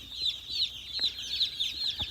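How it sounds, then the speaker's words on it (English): Cockerels cluck in an old 150-year-old chicken coop on a freezing cold day, a steady run of soft clucks and chatter with a few sharper calls, fairly close and without talk. "So these are the cockerels here."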